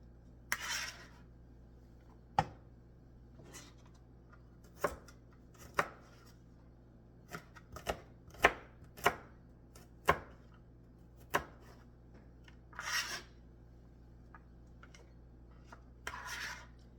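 Garlic being chopped with a knife on a cutting board for chicken noodle soup in a 6-quart pot, a dozen or so crisp, separate knife strikes at an uneven pace, close and fairly quiet, with a faint hum underneath.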